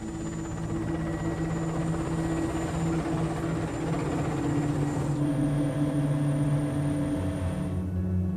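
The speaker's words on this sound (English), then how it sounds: "Our helicopter flew us out across the Caspian." A helicopter flies out over the Caspian Sea, its rotor and engine a steady, loud, continuous drone heard from inside the cabin with a constant hum and no talking.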